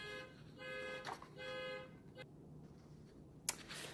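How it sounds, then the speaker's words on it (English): A car alarm going off outside the house, heard faintly from indoors as repeating electronic tones in bursts, with a brief sharp honk near the end. "We have somebody out in front of our house with their car alarm going off."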